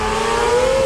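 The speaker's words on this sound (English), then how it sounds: "That's got a motorcycle engine." A hill climb race car powered by a motorcycle engine screams past at high revs, a loud, close, sustained engine whine with a rising pitch, heard alone for under a second.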